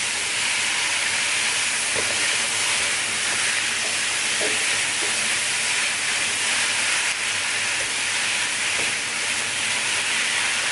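Tomatoes sizzle in a wok with browned onions, a steady close hiss that holds evenly throughout with a few faint clicks and no talking.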